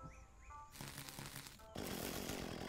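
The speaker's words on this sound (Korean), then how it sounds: "데미지는 들어가는데 전기톱이 잘 안 먹는 것 같아요" A chainsaw in the video game Dinkum cutting into a thunder egg, with buzzing mechanical bursts that change in intensity and grow louder and denser toward the end, heard alone.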